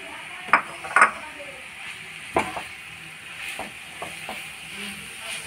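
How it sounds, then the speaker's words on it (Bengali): Grated carrots fry slowly in ghee over low heat for carrot halwa, a faint sizzle beneath several sharp metallic clinks and scrapes of a utensil against the pan. "এইভাবে আস্তে আস্তে করে গাজরটাকে পুরো ভেজে নিতে হবে"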